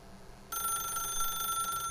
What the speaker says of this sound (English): we don't need to pick up the phone, right?